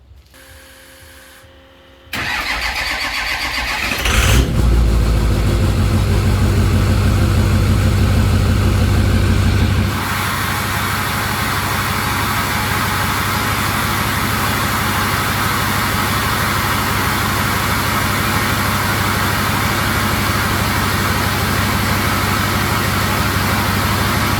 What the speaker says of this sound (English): Let's get a nice little cold start.